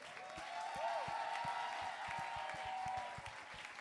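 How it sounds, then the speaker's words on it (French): A concert audience in Brussels claps in a moderate, even wash of applause with a few scattered whoops, heard somewhat distant and soft while a low rhythmic thump pulses beneath. "Est-ce qu'on peut applaudir encore?"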